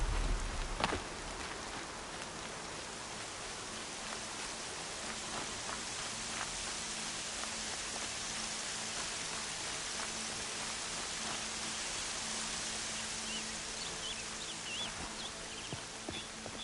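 Rain falls steadily in the Horizon Zero Dawn video game, a soft continuous hiss with scattered droplet ticks, even and moderately quiet throughout, with no voices.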